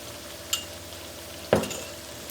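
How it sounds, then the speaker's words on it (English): Chopped onion with ginger garlic paste dropped into a hot pan, a soft clink followed by a louder burst of sizzling and stirring that settles into a steady fry, with no speech. "I'm gonna add this chopped onion, add ginger and garlic paste"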